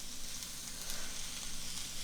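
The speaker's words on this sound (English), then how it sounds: "we will let this stir fry a little bit more" A stir fry sizzles steadily in a hot pan, a continuous bright hiss with small crackles, close and fairly loud, with no talking.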